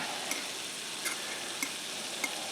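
Garlic sizzling in a pan with oil, a soft steady crackling hiss at low volume, punctuated by a few faint light clicks, with no talking.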